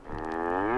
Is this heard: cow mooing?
yes